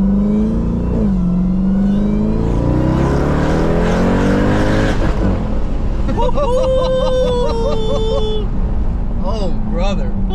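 Supercharged Jeep Trackhawk with a modified pulley accelerating hard in a third gear pull: loud rising engine and supercharger whine climbing in pitch, a brief shift, then whistling harmonics, with excited voices talking over it from inside the cabin.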